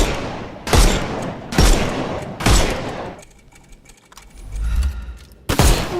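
Rapid gunfire bursts crackle in the Sherlock Holmes Chapter One video game, three loud close volleys in quick succession, a quieter rumbling pause, then another sharp burst at the end.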